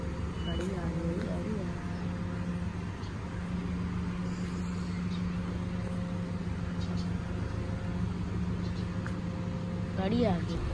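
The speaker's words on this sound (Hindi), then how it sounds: "ओए गाड़ी आ रही है।" A car approaches on a road in Pakistan, its engine a loud, steady drone with low rumble and humming tones from start to end, while people talk over it.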